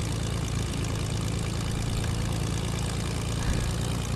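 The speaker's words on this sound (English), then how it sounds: "I'm on my airplane already" A propeller airplane engine drones in an online video game, a faint, steady, unbroken hum with no talk over it.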